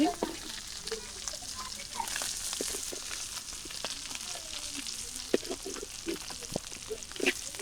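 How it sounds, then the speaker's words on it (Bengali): Chopped onions sizzle up close in foamy oil left from frying shrimp, with a soft crackling hiss and scattered clicks and scrapes of stirring. "চিংড়ি মাছ ভাজা এই তেলের মধ্যেই আমি পেঁয়াজ কুচি দিয়ে দিলাম"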